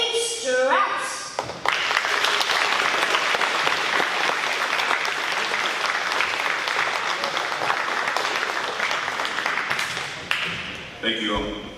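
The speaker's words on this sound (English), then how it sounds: "Please give a round of applause for the man who's going to give a welcoming speech" A school audience applauds their principal at a middle school Veterans Day program, dense steady clapping filling the hall for about ten seconds, with brief voices just before and after.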